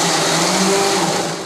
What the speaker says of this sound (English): We are going to use the blender rather than the food processor bowl because we want this to be a little spreadable.